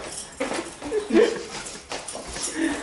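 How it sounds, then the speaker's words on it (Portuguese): A pug whimpers in short, uneven bursts, fairly close and moderately loud, with faint background noise and no clear talk over it. "Olha o pug, olha o cachorro."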